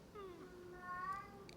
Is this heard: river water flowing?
no